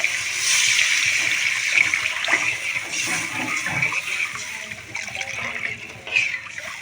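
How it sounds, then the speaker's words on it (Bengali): Water poured into fried, well-cooked masala in a pan for a bhola fish curry, a steady hissing, splashing pour lasting several seconds at close range. "এখন আমি এতে জল অ্যাড করে দেবো"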